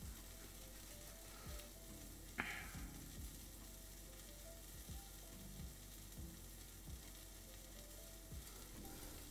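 Beef sizzles in a hot pan while cooking for drunken beef noodles: a steady broadband hiss with faint crackles throughout, one sharp pop near the start, close up and with no talking.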